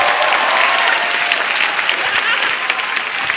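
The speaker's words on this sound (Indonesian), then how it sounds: "tepuk tangan sekali lagi untuk Babe" Audience applause at a stand-up comedy show, a dense, steady burst of clapping that fills the room for the whole stretch at close range, with some crowd noise mixed in.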